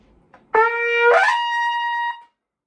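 A brass instrument sounds one sustained, steady note that bends upward into a higher held tone, played with the lip muscle firmed inside the mouthpiece, close and clear with nothing else heard.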